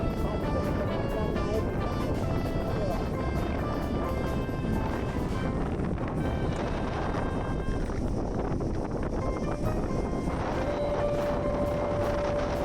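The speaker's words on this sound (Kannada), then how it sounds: "ಎಷ್ಟು ಜೋರಾಗಿ ಗಾಳಿ ಬೀಸ್ತಾ ಇದೆ ಅಂದರೆ ಅಷ್ಟು ಜೋರಾಗಿ ಅಲೆಗಳು ಕೂಡ ಬರ್ತದೆ" Strong wind roars across the microphone at Malpe Beach, mixed with the wash of waves rolling in: a constant, loud, broadband rush with no pauses and no talk.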